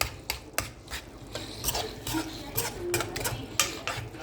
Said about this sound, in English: stirring the prawns in this masala, in this spicy tomato, ginger, garlic, and onion sauce with curry powder